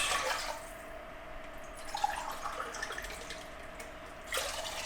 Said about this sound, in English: I'm just going to put our water in first.